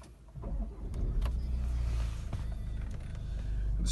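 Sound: car engine started with push button

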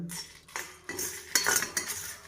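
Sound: roasting lentils and spices in a small kadai

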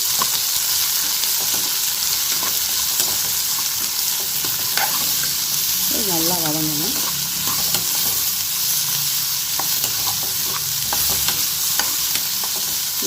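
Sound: onions sautéing in pan

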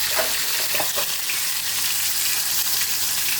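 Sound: tomatoes added to hot pan, sizzling

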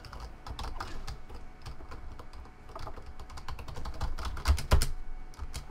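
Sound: keyboard button mashing while playing a video game

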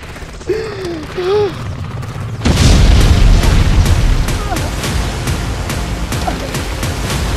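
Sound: bomb explosion in a dramatization

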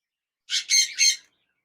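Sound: zebra finch birds chirping

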